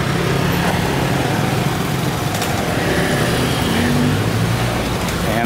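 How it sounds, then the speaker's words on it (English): Thai street traffic rolls past at close range, with cars and motorbikes whizzing by in a loud, continuous engine drone and the high buzz of small bikes. No one speaks. "always be careful what's behind you, because they come whizzing around on their bikes and cars"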